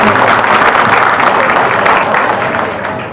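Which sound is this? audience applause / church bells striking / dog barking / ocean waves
audience applause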